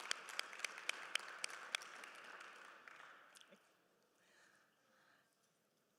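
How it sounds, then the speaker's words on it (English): Applause from an audience at a stamp dedication ceremony honoring Judge Constance Baker Motley, beginning as scattered sharp claps over a soft wash, then thinning and fading to near silence. "may we have another round of applause for Kyle Maynard"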